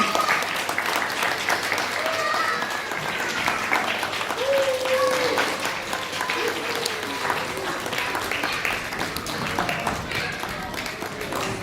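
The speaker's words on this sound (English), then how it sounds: "Big round of applause for Srimati Uma Rajasekharani" A big round of applause at a Kuchipudi dance school felicitation ceremony for guests, loud sustained crowd clapping filling the hall, with an announcer's voice and other talk faintly heard beneath it.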